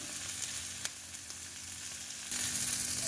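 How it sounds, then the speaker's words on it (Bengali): Vegetables nearly done frying in a pan for oats khichdi, a continuous sizzle with a brief scrape of stirring, growing a little louder near the end. "তো দেখো সবজিগুলো প্রায় ভাজা হয়ে এসেছে"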